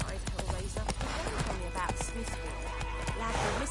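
Horse hooves clip-clopping in The Witcher 3: Wild Hunt in the White Orchard area, a steady rhythmic run of hoofbeats under game speech, with a horse whinny mixed in.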